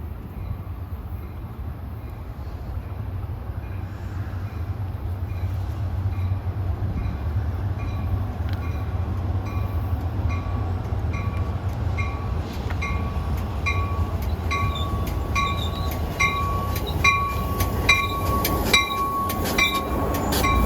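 Caltrain commuter train arriving at a station, heard trackside as a broad steady rumble with wheel clatter, growing louder while high brake squeals and ringing tones rise toward the end.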